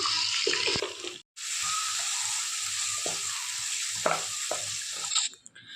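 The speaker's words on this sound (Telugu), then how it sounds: "ఇవన్నీ ఒకసారి అయితే ఫ్రై చేసుకోవాలండి" Spices frying in a pan for a cauliflower and chana dal curry, a steady close sizzle with a brief drop to near silence early on and a few soft stirring clicks throughout.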